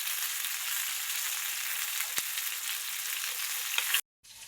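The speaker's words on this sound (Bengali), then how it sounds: "খাঁটি সরষের তেল দিয়া তরকারি রান্না হচ্ছে" Curry of sweet pumpkin and fish sizzles steadily in pure mustard oil, a close, even frying hiss that carries on without pause and then cuts off abruptly near the end.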